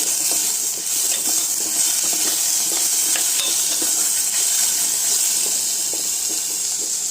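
Chopped tomatoes stirred through fried toor dal in a pan, a constant hiss of sizzling oil with a spoon scraping in soft repeated strokes, loud and close, no voices.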